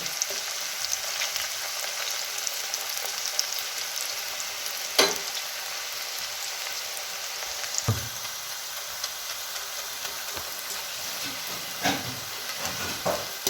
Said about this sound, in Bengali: দেখুন আমাদের ভেন্ডিটা এভাবে ফ্রাই করতে হবে একদম মুচমুচে হবে